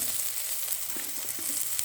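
Boiled potatoes added to a pan of egg and spinach curry sizzle and fry, a steady hissing crackle with faint stirring scrapes, close by and without any voice.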